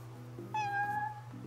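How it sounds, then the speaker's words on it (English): A cat in the video game Final Fantasy 15 lets out one clear, drawn-out meow, close and moderately loud, over a low steady background hum with no talking. "I'm getting a quest from a cat."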